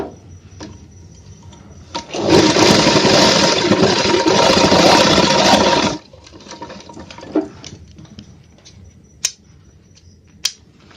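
A sewing machine stitches a seam on a men's shirt, its motor running loud and steady for about four seconds before stopping, followed by quiet with a few small clicks.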